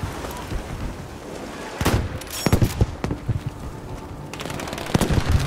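Bursts of rapid gunfire in the video game Battlefield V crackle in short volleys over a low background rumble, with several sharp shots clustered together.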